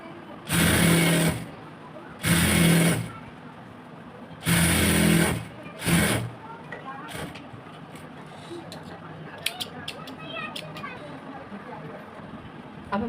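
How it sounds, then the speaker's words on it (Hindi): Sewing machine stitching stretched elastic onto palazzo pants, running in four loud bursts of whirring about a second each, then stopping to quieter room noise with faint handling clicks. "अब हम यहाँ पे एक सिलाई लगा लेते हैं।"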